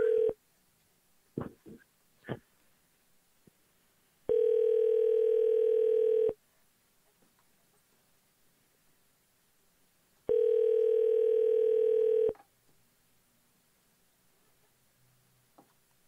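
Telephone ringback tone heard while calling back, two long steady electronic beeps of about two seconds each separated by a silent gap, preceded by a few short clicks and key taps.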